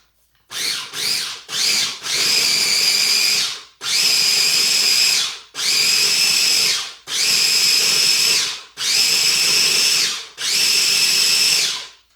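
Whole grain mustard seeds ground in an electric grinder for homemade mustard: a few short opening pulses, then five long, loud whirring runs with brief pauses between, close up and with no talk.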